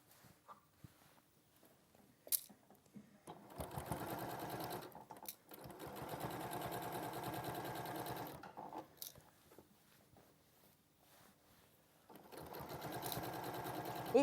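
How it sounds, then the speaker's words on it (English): A sewing machine runs in steady bursts as it stitches a dress collar, with a short pause between the runs. The sound is close and fairly quiet, and no one speaks. "I'm just going to sew that in now."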